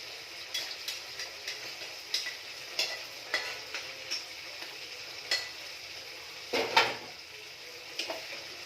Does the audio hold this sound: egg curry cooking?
yes